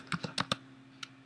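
A few quick, close computer keyboard keystrokes, four rapid taps and then one more after a brief pause, while a folder of GIS data is being renamed.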